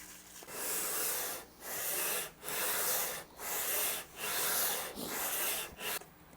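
Long back-and-forth strokes of 180 grit sandpaper across a radiused wooden guitar fretboard, about seven even raspy passes with short pauses between them, close and clear with no talking.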